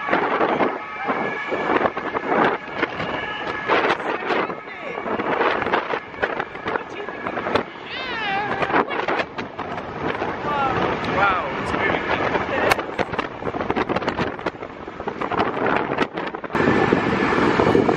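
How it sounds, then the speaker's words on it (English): Gusty wind buffets a microphone outdoors on a day in Paris, producing loud, continuous rough blasts of noise with faint, indistinct voices underneath. "It's too windy."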